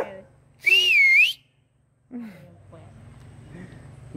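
A person whistles a short, wavering melodic phrase, loud and close, standing alone between stretches of talk by people nearby.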